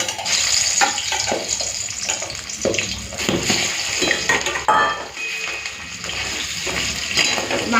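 A large rohu fish head, from a 3.5 kg fish, fries in a pan amid busy kitchen clatter, with a continuous crackling hiss mixed with clinking utensils and pan knocks, close and moderately loud.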